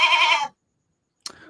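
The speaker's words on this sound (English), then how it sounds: "A little bit of like little sheep, little goat." A single loud, close bleat like a small sheep or goat, lasting about half a second, then silence and a brief burst of rustling noise.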